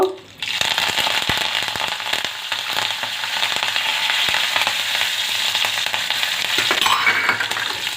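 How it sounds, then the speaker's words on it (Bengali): Mustard seeds and curry leaves spluttering in hot oil and half a spoon of ghee for bread pulao, a loud continuous sizzle after a brief quiet start, dotted with sharp crackling pops, no talk over it. "এর মধ্যে একটু সর্ষে ফোড়ন দেব একটু কারি পাতা ফোড়ন দেব"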